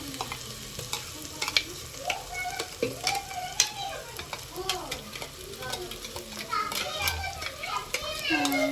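Ground coriander and mint paste frying in hot oil, a continuous sizzle with stirring scrapes, while children play and talk nearby over the cooking.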